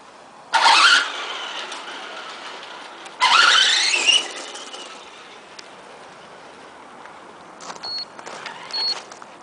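A modified Tamiya DF02 RC monster truck with King Motor electronics makes two sharp whining speed bursts, each rising then fading, followed by quieter faint motor whirs and a couple of short high tones.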